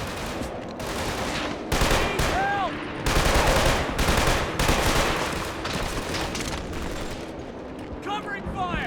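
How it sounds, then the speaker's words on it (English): Rapid bursts of automatic assault rifle fire from enemy weapons in the shooter game Killzone 2, loud and sustained with overlapping volleys and combat clatter, with brief speech mixed in. "let's use the enemy assault rifle now"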